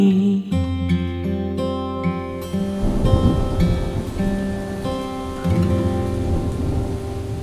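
Steady rain falls with a continuous hiss and a low rumble of thunder, mixed with sustained musical tones throughout.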